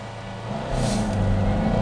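A Toyota Starlet EP82 launches from a standing start at around 3600 rpm, its engine rising from a steady idle into a loud, close, swelling rev.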